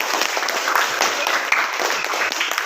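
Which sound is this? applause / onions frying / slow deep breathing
applause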